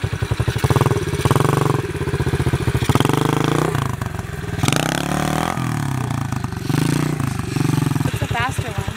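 A pit bike's small single-cylinder engine revs hard in a wheelie attempt, loud and close, with rapid on-off throttle bursts, rising and falling revs and brief clatter, as a voice talks over parts of it.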